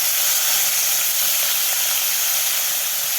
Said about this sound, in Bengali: ভালো করে লাল করে ভেজে উঠে নেব মাছগুলো